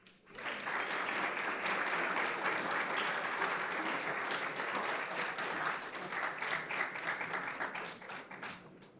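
A conference audience at a finance summit applauds in a steady, dense wash of clapping that holds for about eight seconds before thinning out, heard from a moderate distance.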